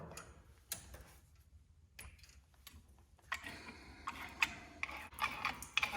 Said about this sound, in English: crank on this thing and compress the caliper